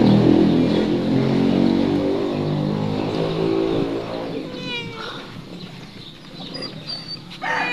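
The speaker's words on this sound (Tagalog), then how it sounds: "binibit-bit po ni Pipi yung pusa" A cat meows repeatedly over a steady background rumble, the cries close and drawn out, with a few higher yowls toward the end.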